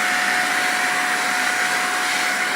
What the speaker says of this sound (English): vacuum up all these aluminum shavings